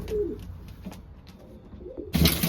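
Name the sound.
racing pigeons cooing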